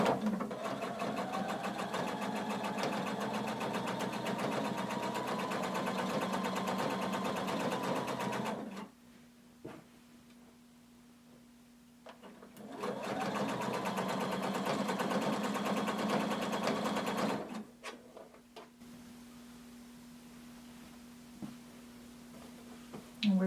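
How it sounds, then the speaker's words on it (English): Sewing machine stitching around the pocket of a hooded tunic: two long, steady runs of fast mechanical whirring, each stopping abruptly, separated by a quiet pause with a faint hum. "then we're going to sew around our pocket. Using 5/8 of an inch seam allowance"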